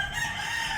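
An SBR rooster crowing, a brief sustained harmonic call heard on its own.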